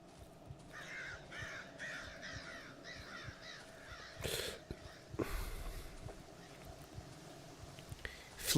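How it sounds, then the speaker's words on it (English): Crows caw repeatedly in the game Darkwood, a run of harsh, rhythmic calls that are fairly faint and distant, then fade into quieter rustling and a few soft thumps. "Sleeping crows."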